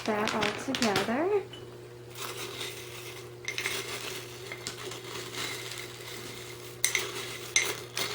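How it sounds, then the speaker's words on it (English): Spoon stirring a homemade rat treat mix in a bowl, giving soft clinking and scraping, with a person talking briefly at the start over a steady background hum. "so I'll add about 1 spoonful of this, and then I'm gonna mix that all together."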